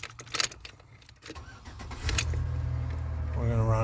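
A 2009 Chevrolet Impala's engine cranks and catches after a few clicks and key rattles, then settles into a steady idle that holds to the end, recorded close by.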